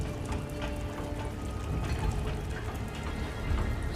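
Water rushes into a flooding mine and rises fast, making a steady, dense roar that holds at an even level throughout with no voices.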